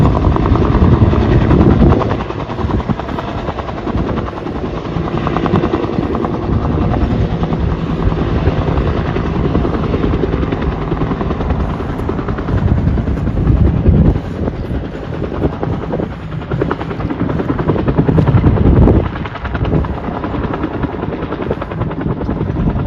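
An aircraft carries another plane in mid-air, giving a steady, loud droning engine and rotor-like roar that runs continuously with slight swells.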